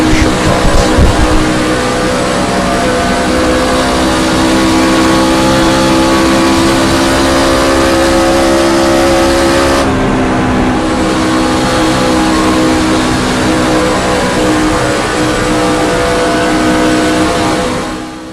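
Racing truck engine in a short-track racing video game, sustained loud steady drone with smooth throttle, slight shift in tone partway through, continuous and close.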